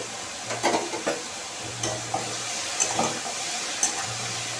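Bitter gourd fries in a pan with a soft, steady sizzle, broken by occasional clinks and scrapes of stirring.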